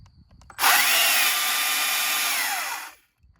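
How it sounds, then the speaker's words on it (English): Stihl MSA 300 battery-powered chainsaw running at its first speed setting: a sudden loud electric whine that holds steady for about two and a half seconds, then winds down, alone with no talk. "This is the first speed. 13 meters by second is the chainsaw speed."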